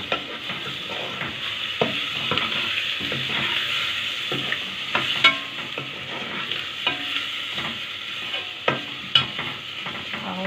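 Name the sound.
stirring meat with onions frying in a pan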